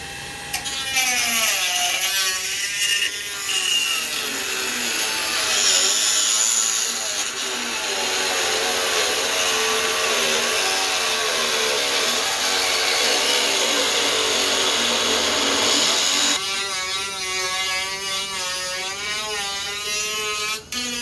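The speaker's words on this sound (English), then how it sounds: "you want to use some sort of shop vac or something" A shop vacuum sucks up dust during repair of a 91-inch Extreme Flight Yak 54 model airplane, a loud continuous whining roar with shifting pitch that runs throughout, nearby and steady.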